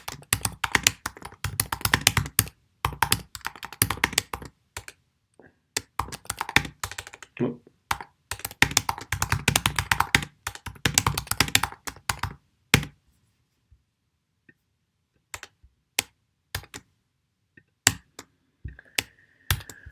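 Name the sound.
typing on a computer keyboard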